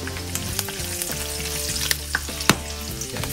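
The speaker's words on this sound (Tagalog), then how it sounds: "Lagyan na natin ng mantika yan. Pag mainit na, lagyan natin itong annatto seeds." Annatto seeds frying in hot cooking oil give a continuous close sizzle, with scattered sharp pops and crackles and a brief stirring scrape, no talking.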